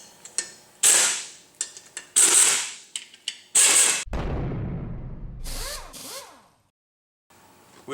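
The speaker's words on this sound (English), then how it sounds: "use some bolts to thread into those holes that will push on the hub and hopefully remove this rotor" Bolts turned into the jack screw holes of a rusted drum-in-hat rear rotor on a 2007 GMC Yukon Denali, pushing against the hub to break it free: sharp metallic ratcheting bursts and clanks, then a loud low grinding rumble as the rusted rotor gives way.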